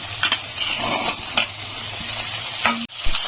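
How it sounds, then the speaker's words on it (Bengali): Garlic, onion and capsicum frying in a pan for chilli cauliflower, a steady close sizzle broken by a few scraping stirs and brief clinks, with no voices. "ভেজে নেবো রসুনটা তারপরে দিয়ে দিচ্ছি পেঁয়াজ আর দিচ্ছি ক্যাপসিকাম"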